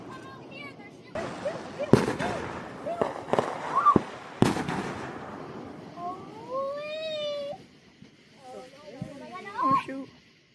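Fourth of July fireworks and firecrackers go off in a string of sharp, loud bangs and crackles, some near and some farther off, with whistling rockets between them and excited voices talking throughout.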